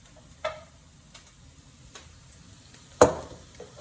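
Fried onion sizzling softly in a pan, a low steady crackle with a few sharp utensil clicks and scrapes, the loudest near the end, and no talking over it.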